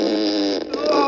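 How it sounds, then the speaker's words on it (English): A squishy fart sound effect plays from an Amazon Alexa Echo Dot smart speaker as one continuous, wet, buzzing blast lasting about a second, with a brief dip partway through. "Here comes a squishy fart."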